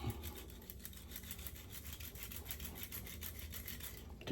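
A ManMower beard tool is sharpened with a steady, quiet back-and-forth rasping scrape that repeats in even strokes, close by, ending with a brief louder knock.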